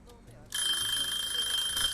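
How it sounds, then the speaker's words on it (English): Kitchen timer alarm in the Cooking Simulator VR video game, a bright, high electronic ringing that starts abruptly and continues steadily, with faint sounds underneath before it begins. "That's our timer."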